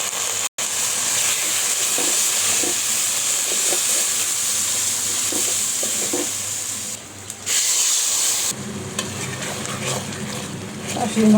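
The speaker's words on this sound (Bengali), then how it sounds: "খাসির মাংস যেটা মশলা কষাচ্ছি" Spiced masala for a goat meat curry, with tomato, ginger and garlic paste, sizzles and hisses steadily in a pan during sautéing. The sound is close and continuous, and a person talks over it.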